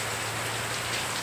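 Rain falls steadily in a village, a close, continuous patter and hiss of drops striking surfaces.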